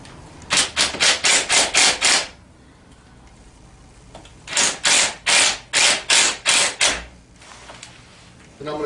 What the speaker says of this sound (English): Take your Allen wrench and just tighten it up just a little bit to get them started.